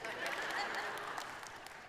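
A church congregation claps in a brief, fairly even round of applause lasting about two seconds, with faint voices and crowd noise underneath.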